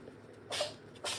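A sneeze, two short sharp bursts of breath close by, the first one stronger and the second following about half a second later, in an otherwise quiet room.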